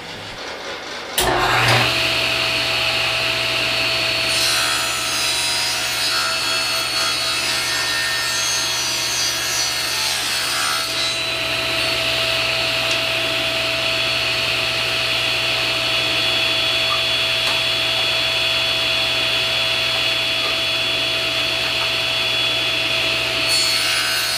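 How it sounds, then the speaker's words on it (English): A table saw trims about an eighth of an inch off a wooden piece, its loud steady whine running throughout with the blade biting into the wood over a constant motor hum. "We're just going to cut off about 1/8 of an inch, maybe a little bit more, on the table saw"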